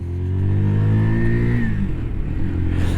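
A Zontes Mantis 125cc motorcycle engine revs up with a steady rising drone, loud and close, then settles into a lower rumble.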